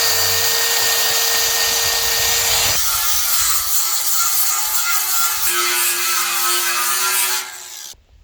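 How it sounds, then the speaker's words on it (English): Milwaukee grinder prepping a 1983 sawmill trailer: a loud, high whine of the grinder with scraping and rasping against metal that shifts in pitch as the load changes, then spins down and stops. "the Milwaukee grinder, she gets hot"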